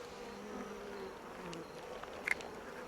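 Honey bees drone softly inside a nucleus colony hive, a faint continuous buzz with a few brief higher-pitched flickers near the end.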